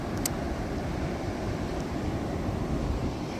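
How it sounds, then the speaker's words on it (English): Soft, steady wash of ocean waves at Myrtle Beach, South Carolina, a low continuous rumble with wind noise on the microphone and no talking. "the waves are so pretty"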